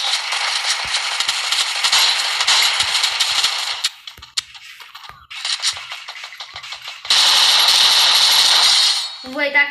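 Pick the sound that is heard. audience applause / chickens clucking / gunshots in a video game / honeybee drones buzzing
gunshots in a video game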